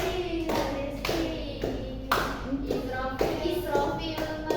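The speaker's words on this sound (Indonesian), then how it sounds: "Tepuk tangan dulu" Children clap their hands in a steady, rhythmic beat at an Islamic lesson while young voices sing along, each clap crisp and close over the singing.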